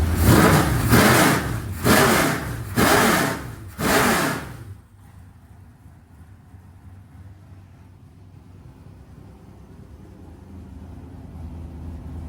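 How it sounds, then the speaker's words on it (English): Four loud revs in quick succession from an asphalt Pro Late Model race car engine, not yet warmed up, each a short roaring burst, then the engine settles into a low, steady idle rumble. "I'll give you a little rev."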